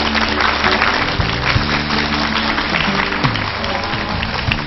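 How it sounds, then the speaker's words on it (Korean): Dense, sustained applause from a lecture-hall audience greeting a classics lecturer on a TV lecture programme, steady and loud throughout with no break. "큰 박수 부탁드립니다"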